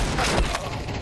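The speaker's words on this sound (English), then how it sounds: "I'm throwing the flashbang." A flashbang grenade goes off in the game CS2, giving a loud, brief burst with a ringing, noisy wash that fills the moment with no talk over it.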